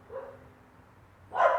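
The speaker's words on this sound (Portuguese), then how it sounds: "Os cachorros que não pararam de latir enquanto eu lia" A dog barks twice while someone reads aloud, a short muffled yap early on and then a louder, sharper bark at the end, both a little distant.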